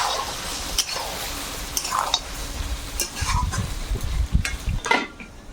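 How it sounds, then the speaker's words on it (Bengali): Mutton and potatoes frying and being stirred in a pan, a steady sizzle broken by repeated scraping and clattering stirs, close and fairly loud. "মাংসটা কিছুক্ষণ ভেজে নিয়ে আর আলু দিয়েছি, আলুটা দিয়েও নাড়াচাড়া করলাম"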